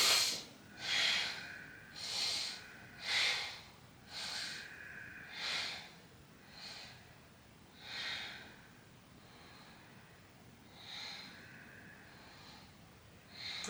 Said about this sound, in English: If you want to key in your Ujjayi breathing at any point in this practice